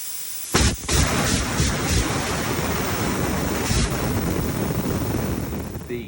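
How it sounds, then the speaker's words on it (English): Compressed air hisses from a leaking hose connection on an air impact wrench: a loud, steady, close rush of air with a few sharper bursts near the start. "when this is connected to the hose, it would leak air right over here on this side"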